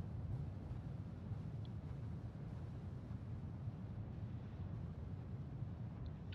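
Wind blowing across a planet's surface near an outpost in the video game Star Citizen, a faint, steady, low rushing noise that continues evenly throughout, with no voices.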